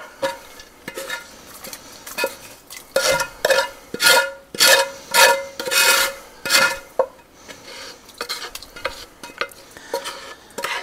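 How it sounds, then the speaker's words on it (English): Cooked bacon pieces and bacon grease scraped from a pan into a soup pot, heard as a run of rhythmic, close scraping and stirring strokes with no talking. "I'm going to put all of this and whatever oil or grease is in here from the bacon right into the soup"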